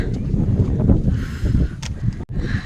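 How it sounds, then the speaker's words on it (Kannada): Strong wind gusts across an open hilltop at Mandaragiri Hills near Tumkur, a heavy low rumble buffeting the microphone continuously with a brief drop near the end. "ಗಾಳಿ ಬೇರೆ ಬೀಸ್ತಾನೆ ಇದೆ."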